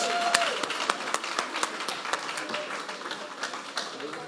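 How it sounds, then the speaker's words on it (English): An audience at a city candidate forum claps steadily, a moderate patter of many hands that tapers slightly toward the end, with a voice speaking over it. "Big round of applause for those folks"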